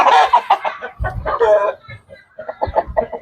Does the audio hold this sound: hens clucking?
yes